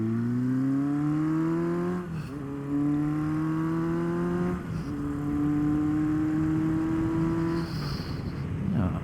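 A 1977 Kawasaki KZ650C motorcycle with a five-speed gearbox cruising on a road, its steady engine drone climbing in pitch through each gear before brief dips at upshifts, loud and close with constant wind noise.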